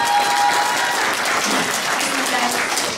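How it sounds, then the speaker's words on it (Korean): Audience applause at an awards ceremony, a full, steady clapping crowd sustained for the whole stretch and fading slightly at the end, with a brief voice near the start. "저분들에게 박수 좀 전해주시죠."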